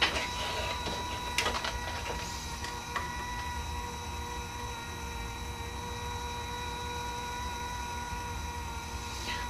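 A Fellowes Venus 2 laminator hums steadily while heating up, its motor drone and faint electrical whine held constant, with a few small clicks near the start.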